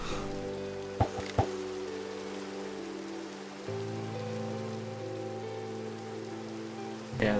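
Steady rain patters in the video game Minecraft, a continuous hiss with a low tonal hum running underneath and a few sharp clicks near the start and end.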